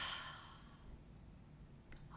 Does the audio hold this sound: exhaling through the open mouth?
yes